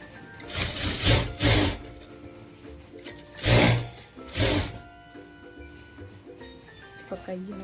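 A sewing machine stitches the side seam of a blouse in several short bursts of rapid whirring, with pauses between runs and a few light clicks near the end.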